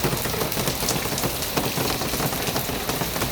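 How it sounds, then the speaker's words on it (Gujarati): Heavy monsoon rain in Bharuch pours down in a dense, unbroken hiss of drops on surfaces, steady and close, with no talk. "વરસાદ ફૂલ ચાલુ છે."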